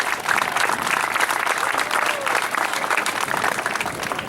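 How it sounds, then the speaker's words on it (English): Steady, dense applause from a crowd at a high school stadium pep rally, sustained evenly from start to finish with no talk over it. "So let's give them a round of applause in their absence here."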